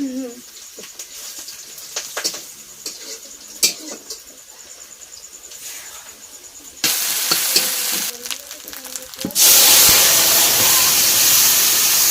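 Curry sizzling in a hot pan, first a low crackle under scattered talk, then a loud burst of hissing frying that jumps louder again and holds steady.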